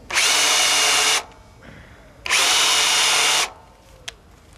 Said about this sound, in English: And we'll countersink these as well.